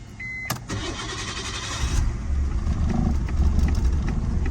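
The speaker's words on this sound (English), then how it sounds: "let's see how the Skyline sounds when it starts up" A Nissan Skyline cranks and fires up, a short starter whir giving way to a steady, fairly loud idle rumble that continues to the end, with no talking.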